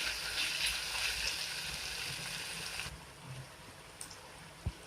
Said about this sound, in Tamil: இப்போ 3 டம்ளர் தண்ணி ஊற்றிக்கலாம்.